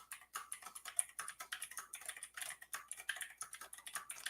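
Rapid, irregular keystrokes on a computer keyboard as a password is entered, close and clear with no talking over them.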